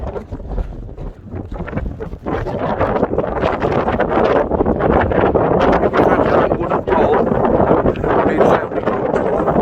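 Strong wind gusting across a snowy Mam Tor summit in winter, a loud continuous roar buffeting close in with rising and falling surges for most of the stretch.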